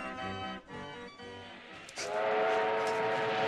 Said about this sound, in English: A steam train!